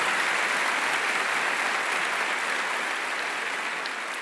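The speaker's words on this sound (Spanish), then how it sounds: "Dele un aplauso grande si está entendiendo de qué voy a hablar." A church congregation bursts into big applause during a Spanish-language sermon, a thick, continuous wash of many hands clapping, loud and even, tapering gently toward the end.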